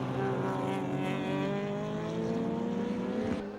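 Nissan BNR32 GT-R touring cars race at Oran Park in 1991, their engines whining in layered tones that rise and fall as they come off the power and work under brakes, heard from a distance.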